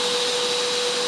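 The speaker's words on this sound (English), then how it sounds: "So I'm going to turn on the vacuum cleaner, I'm going to activate the drill and run the can opener at the same time." A vacuum cleaner, a drill and a can opener run together off a portable backup power station, making a loud, continuous roaring whir with a steady high whine layered on top, unbroken for the whole moment.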